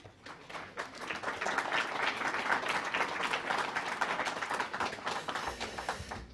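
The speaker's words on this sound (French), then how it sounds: "Je vous demande de l'applaudir." Audience applause welcoming a minister at the opening of a colloquium, a steady crackle of many hands clapping at moderate distance that holds for about six seconds before thinning out.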